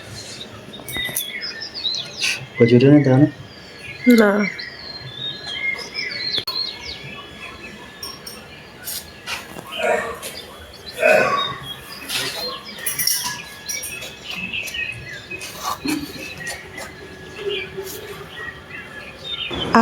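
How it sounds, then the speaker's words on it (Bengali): Birds chirp and twitter in scattered bursts around an outdoor spot on a foggy, quiet morning, with short calls near and far while a person talks briefly over them. "পাখির চারিদিকে কিচিরমিচির আওয়াজ"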